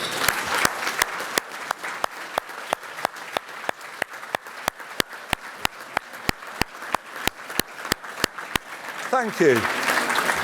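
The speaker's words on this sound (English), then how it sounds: "giving a round of applause to all the people who've helped you achieve your degrees" Scattered, sparse applause from a graduation ceremony audience honoring those who helped graduates, with distinct individual claps in a steady rhythm and a voice speaking briefly over the end.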